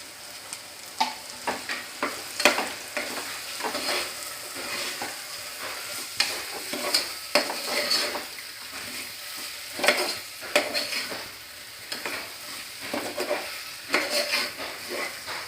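Vegetables stir-fry in hot oil for tomato bath, a steady sizzle broken by repeated scraping and clatter as a spoon stirs the pan, close and continuous with no talk.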